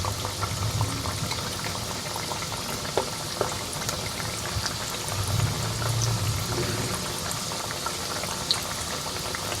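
A chicken burger patty fries in a pan for a golden-brown crust, giving a steady close bubbling sizzle with small pops throughout, no talking.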